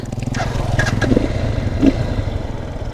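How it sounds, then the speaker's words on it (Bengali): A Lifan KPR 165R motorcycle engine drones steadily while riding, a close, constant low hum with some clatter over it. "এখন লিফন কেপিআর চালাই 165 আর"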